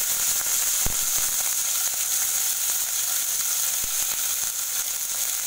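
Fresh green peas tipped into hot oil seasoned with asafoetida sizzle steadily, a bright continuous hiss with a couple of sharp pops near the start and middle.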